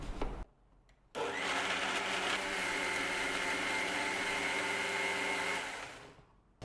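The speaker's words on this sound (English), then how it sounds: "Let's add half a cup of water and blend it." A blender runs steadily at high speed for several seconds, pureeing cooled cooked gravy ingredients with half a cup of water, its loud whirring motor starting abruptly after a brief pause and winding down at the end.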